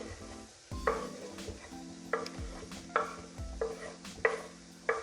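Chilies dropped into a hot pan for spaghetti Bolognese, giving a steady close sizzle with repeated stirring scrapes and clinks of a utensil against the pan, no voices.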